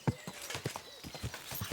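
Horse hooves clip-clop in Kingdom Come Deliverance 2, a series of steady, moderately close hoof strikes about two per second. Faint game ambience runs underneath.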